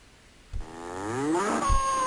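A cow moos once, a long rising and falling call with clear harmonic bands, at a miniature snail race with a ramp, cheese balls and rocks; a soft thump opens it and a short knock sounds near the end.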